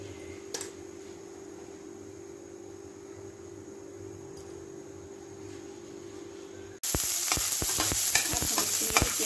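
Ajwain seeds dropped into hot mustard oil in a kadai for tempering. A quiet low hum comes first, then a sudden loud burst of crackling, spitting sizzle that continues vigorously.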